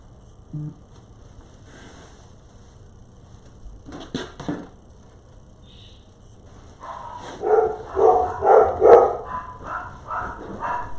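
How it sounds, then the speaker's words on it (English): Dogs barking indoors in a burst of repeated loud barks and yips, preceded by a few faint scattered sounds and quiet background. "I apologize for the dogs."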